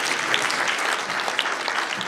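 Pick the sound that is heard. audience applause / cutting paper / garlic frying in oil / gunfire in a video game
audience applause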